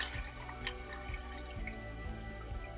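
Melted lard trickles and drips into an oil mix for goat's milk soap, a steady soft liquid pour heard up close and alone.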